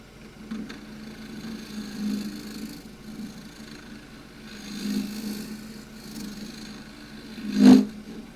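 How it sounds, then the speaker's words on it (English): A shear scraper cuts wood on a lathe, producing a low steady scraping whir with gentle swells and one sharper knock near the end, at a moderate volume. "Using the shear scraper just flat on the rest."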